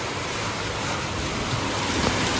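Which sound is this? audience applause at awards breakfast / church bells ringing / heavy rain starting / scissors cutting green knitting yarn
heavy rain starting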